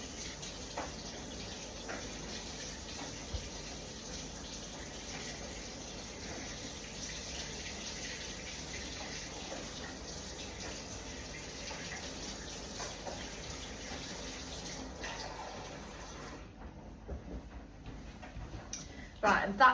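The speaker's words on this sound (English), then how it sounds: "maybe just run the tap for a little while" Warm water runs steadily from a kitchen sink tap at close range, a continuous broadband rush that stops near the end, followed by a few small knocks.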